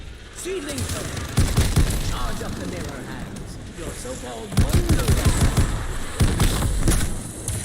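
Shooting zombies in Call of Duty Vanguard Zombies brings repeated bursts of loud gunfire in clusters with short gaps, while someone talks over the shots.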